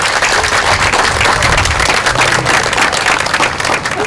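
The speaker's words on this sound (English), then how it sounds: "I hope you'll applaud them one more time" Hearty, sustained applause fills a town school board meeting room in Brattleboro, an unbroken wash of many hands clapping at close range with no talking over it.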